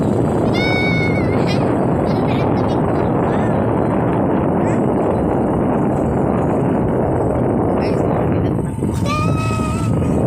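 Boat motor drones steadily and loudly for the whole stretch, a dense continuous engine rumble with brief faint high whistles or voices poking through near the start and end.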